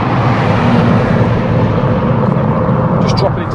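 A Ford Fiesta ST Mk8.5 engine pulls hard under acceleration, a steady, loud drone with road and wind noise, while someone talks over it.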